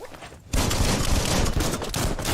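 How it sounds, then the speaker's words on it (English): An explosive target being shot in the video game Biomutant: after a brief quieter lead-in, a loud dense burst of gunfire and blast noise erupts and carries on to the end. "Shoot it and watch it blow."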